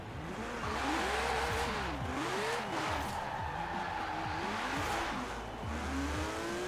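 A lowered VW all-wheel-drive car revs hard and slides in Forza Horizon 4, its engine pitch swooping up and down through rapid shifts while tires squeal and skid, loud and close.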